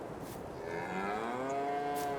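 Cows mooing in the Farming Simulator 22 video game on a farm, a long, drawn-out moo with rising harmonic tones that swells and holds steady, fairly loud with no talk over it.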